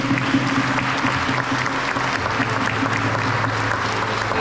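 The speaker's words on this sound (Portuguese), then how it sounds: "E por isso eu peço um aplauso para ele" A concert audience at a fado performance applauds the sound technician with dense, continuous clapping that stays loud and even throughout, with faint voices underneath.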